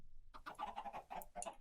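A chicken in the modded Minecraft pack Enigmatica 2 Expert gives a short run of rapid clucks, about five quick squawking bursts that start abruptly after a moment of quiet.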